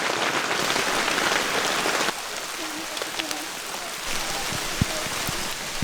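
Heavy rain drums steadily on surfaces around a duck camp, a dense continuous hiss that eases slightly after a couple of seconds, with a few louder drips and faint background voices.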